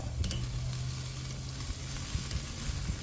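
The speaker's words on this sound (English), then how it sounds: "we're just going to put our skirt steak right over our heat. That's the noise we're looking for" Marinated skirt steak sizzling over live fire on a Weber kettle grill, a steady close crackling hiss with small pops, no voices.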